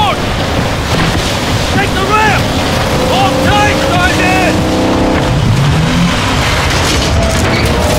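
A boat moving through water in the Call of Duty Modern Warfare 2 video game, a steady rush of engine and water noise, loud and continuous, with shouted speech and game effects over it.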